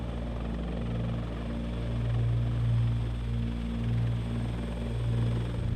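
A CH-53K King Stallion heavy-lift Marine helicopter flies, its loud steady rotor drone holding a low hum that swells and fades in slow waves, with no voices.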